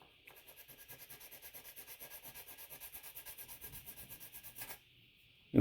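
Folded sandpaper rubs back and forth across a quarter-scale custom Thor sculpture, giving a steady series of about twenty close, quiet rasping strokes that stop abruptly near the end.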